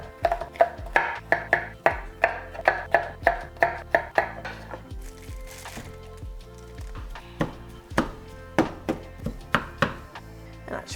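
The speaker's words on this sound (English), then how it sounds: "I'm just gonna dice these up small" A knife dices food small on a cutting board in a fast run of crisp, evenly spaced chops, then a short pause and another quicker burst, close and with no talk over it.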